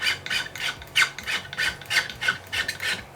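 A metal file reprofiling guitar frets rasps in steady back-and-forth strokes, about a dozen even scrapes, close and fairly loud, with no talking.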